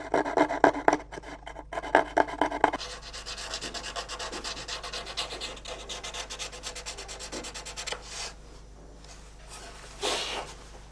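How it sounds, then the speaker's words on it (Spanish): A luthier cuts the f-holes of a handmade violin top with a hand-held saw blade, giving close, rasping strokes that come fast and choppy at first, then settle into a steadier scrape and fade away. "el luthier las corta con un hilo de sierra cogido con su mano"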